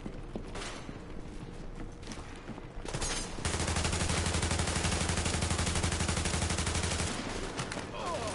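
Gunfire in The Division, a third-person shooter, starts as scattered shots and then becomes a sustained, loud automatic burst that holds for several seconds before easing.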